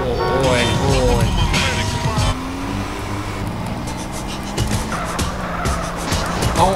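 A car in GTA San Andreas revs and skids, with long tire squeals sweeping up and down over engine roar and occasional impacts, while voices are heard over the driving.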